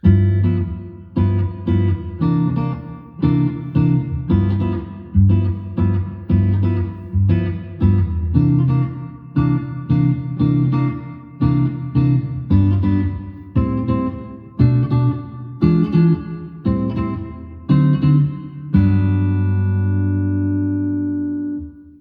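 An electric guitar strums a jazz blues progression of rich extended chords in a steady rhythm, changing every couple of beats, ending on a long ringing chord.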